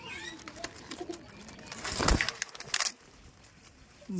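Old Bengali Giribaz pigeons in a loft give soft, low cooing close by, mixed with rustling and a couple of louder broadband bursts midway.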